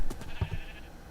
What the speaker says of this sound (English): There's just sheep everywhere. Everywhere I look, there's just like a bajillion sheep.